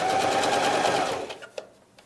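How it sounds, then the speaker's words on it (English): A sewing machine stitches along the bottom edge of a layered fabric face mask, running with a fast, steady close-up whirring hum for about a second before slowing and stopping with a couple of soft clicks. "sew it on the bottom side of the mask"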